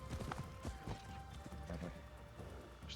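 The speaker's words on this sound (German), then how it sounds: "Zu Pferd gelange ich schneller nach Cattenom." Horse hooves galloping on a road in Assassin's Creed Shadows, a steady run of clip-clop hoofbeats over a busy, continuous game soundscape, fairly close and moderately loud, with no talk.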